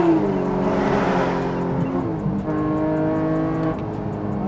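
A DeMan-built 4.5-liter Porsche GT3 Touring with a manual gearbox accelerates hard onto a highway, its loud, close engine note climbing steadily in pitch through the gears with a brief dip at a shift.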